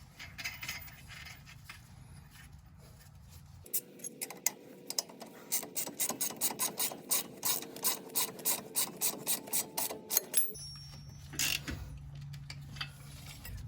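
Ratchet tightening a bolt on a Bilstein shock on a Jeep Wrangler JK, a run of quick close clicking strokes in the middle, bracketed by quieter handling noise.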